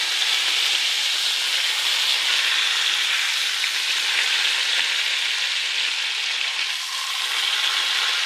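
Liver searing in butter in a hot pan, a loud, steady, close hiss of frying that runs without a break for several seconds, with no voice over it.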